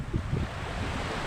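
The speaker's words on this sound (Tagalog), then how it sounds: "Pero mahangin naman dito sa baybaying dagat" Wind blows across the seashore with surf washing beneath it, a dense continuous roar heard close for a brief moment.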